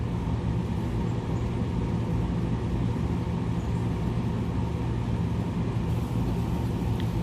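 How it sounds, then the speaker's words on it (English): A truck on the road, passed by a motorcycle, gives a constant low engine and road rumble that stays fairly faint and even throughout, with no clear swell. "This is Chuck passing a truck"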